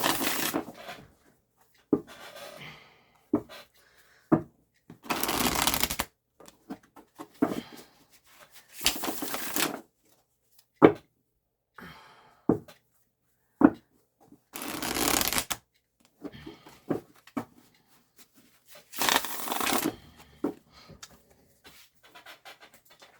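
Tarot cards are shuffled by hand in repeated bursts of riffling and soft sliding, with longer ruffles at intervals and quieter taps and rubs between them, close and fairly quiet with no talking.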